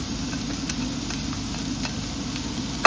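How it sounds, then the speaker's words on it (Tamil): Bell peppers sizzle steadily in a hot pan for chicken fajitas, a loud, even frying hiss with faint crackles throughout. "இதை பார்த்துட்டு இப்போ பெப்பரை போட போகிறோம்."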